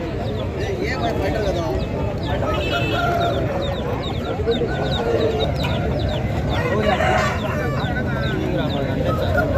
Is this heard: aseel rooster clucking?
yes